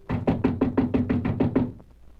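Heavy knocking on a door in an old radio mystery drama, about ten hard evenly spaced thumps in a quick steady run, loud and close, then fading to quiet.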